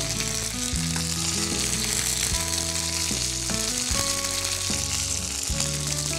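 Curry leaves crackle and sizzle steadily in hot oil, a dense close frying hiss, with tonal music playing loudly over it throughout.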